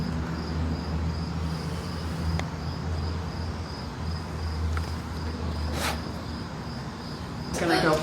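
Cicadas or katydids trill steadily outdoors on a warm evening at a writing retreat, a constant high insect buzz with a low hum and faint background noise beneath it, and a brief clink near the end.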